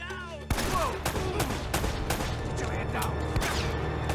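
Shotgun fire in the video game Uncharted: Drake's Fortune Remastered: a string of loud, sharp blasts at irregular intervals amid dense combat noise.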